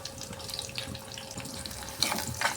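Onions frying in oil in a pan with curry leaves, a soft continuous sizzle and crackle with a few louder hissing bursts near the end, no voices.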